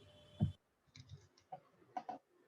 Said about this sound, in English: I'm typing on my keyboard